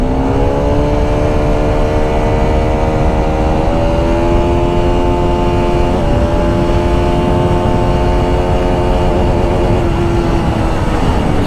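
Bajaj Pulsar RS200 motorcycle accelerating hard through the gears, a loud, steady engine note climbing in pitch, dropping slightly at each shift, then rising again, alone with no talking.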